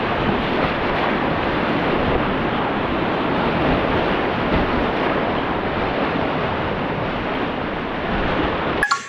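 Whitewater rapids on the Lower Big Sandy river at a 5.3 ft level, heard from a kayak as a steady, loud, close rushing roar, ending in a brief clatter.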